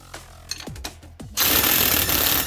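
Ryobi One+ impact wrench straining to back out a bolt with damaged threads: several short hammering bursts, then a sustained loud rattling hammer that runs steadily to the end.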